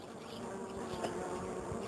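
Bees buzz around small roses in a garden in June, a soft continuous insect drone that hovers close by, steady and unaccompanied by talk.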